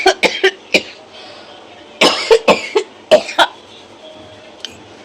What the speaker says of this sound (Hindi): ज़्यादा बोलूँगी ज़्यादा खांसी आएगी